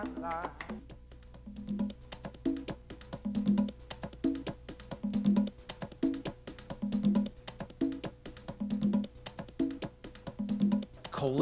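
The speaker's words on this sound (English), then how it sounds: "Clave sounds like this." Claves click out a clave rhythm in a steady repeating pattern of sharp wooden strikes over a faint rhythmic backing, moderately close and fairly quiet, with no talking.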